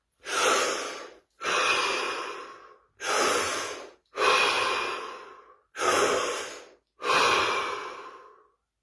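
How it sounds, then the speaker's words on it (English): Three slow, deep breaths, each a long audible inhale followed by a long exhale, loud and close with steady gaps in between, no talking. "3 deep breaths"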